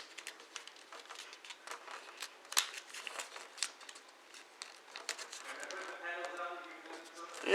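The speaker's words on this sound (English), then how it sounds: "you fold it up like this, so it looks like a triangle" Origami paper being folded into a transforming Transformer figure, close crisp crinkles and papery taps in irregular bursts, with a voice speaking near the end.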